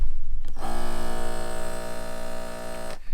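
A Pestool crack and crevice duster runs with a steady electric buzz and a strong hum for about two and a half seconds, starting and stopping abruptly, up close with no talking.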